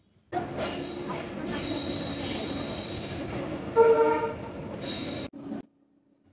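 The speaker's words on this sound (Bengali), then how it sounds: "সিরাজগঞ্জ এক্সপ্রেস ট্রেন তার পঞ্চম যাত্রাবিরতি স্টেশন চমচমের শহর টাঙ্গাইল জেলার টাঙ্গাইল রেল স্টেশনে প্রবেশ করল" A Sirajganj Express train rumbles steadily nearby as it enters Tangail railway station, Bangladesh, with a clattering, broadband roar, briefly sounding a tonal horn before the noise cuts out, leaving a low hum.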